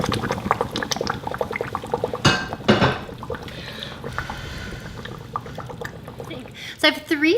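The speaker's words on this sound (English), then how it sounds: "I'm gonna drain them and set them aside" Boiled potatoes are drained, and hot water pours and splashes into a sink in a loud rush partway through, with talking over it before and after.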